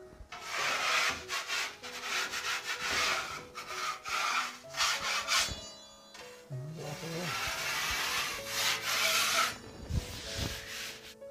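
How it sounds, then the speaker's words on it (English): A drywall knife blade scraping dried joint compound off a wall, a gritty, close rasping in repeated uneven strokes with short pauses between passes. "we're going to begin by just scraping off, very gently, any high spots or edges the blade left"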